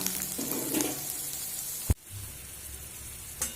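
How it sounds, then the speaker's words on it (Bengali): Papaya pieces frying in a pan with no salt or turmeric, a steady soft sizzle with one sharp clack of a utensil partway through and a brief bump near the end. "পেঁপেগুলো একটু ভেজে নেব দু মিনিট মতো ভেজে নেব"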